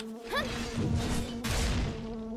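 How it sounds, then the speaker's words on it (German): Bees buzz in the Monster Hunter Online game world, a close droning hum with a rising whine early on and a couple of dull thuds underneath, sounding brief and fairly loud. "Halt, stopp. Ich höre Bienen."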